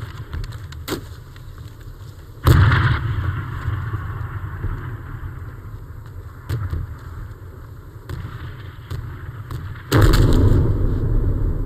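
Artillery fire in a Vietnamese war film, with heavy booming blasts at scattered intervals over a continuous low rumble, loudest bursts near the start and later on, and no speech.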